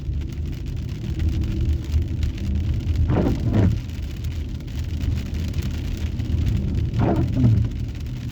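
Rain falls steadily as a close wash, seemingly heard from a car, and two brief swells of passing traffic rise through it.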